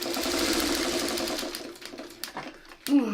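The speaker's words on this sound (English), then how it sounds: "I'm just going to put my stay stitching in" A sewing machine runs stay stitching through quilting fabric, a fast, even, close mechanical whirring with needle clatter that slows and stops near the end, where a voice briefly speaks.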